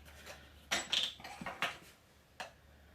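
Cookie batter for chocolate sandwich cookies being whisked and beaten in a bowl, with a few sharp clinks and scrapes of the utensil against the bowl, spaced out and close, with no talking.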